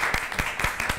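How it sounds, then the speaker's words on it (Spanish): An audience claps for a speaker at a product presentation, with sparse, uneven hand claps spread across a short stretch. "Un aplauso grande para Villa"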